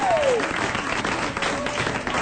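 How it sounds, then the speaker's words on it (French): An audience applauds the bride on a French variety broadcast, with dense continuous clapping throughout and a brief tone sliding down at the very start. "on applaudit la mariée"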